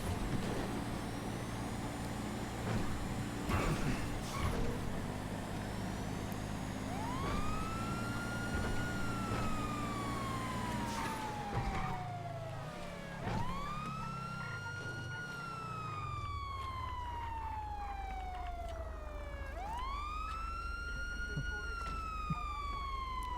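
A police car siren in a video game wails in repeated rising and falling sweeps, loud and close over a steady low engine rumble, with the first wails overlapping a deeper earlier tone.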